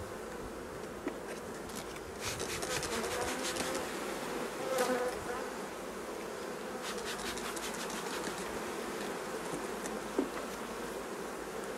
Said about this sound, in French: Et les guêpes, énormément de guêpes aussi.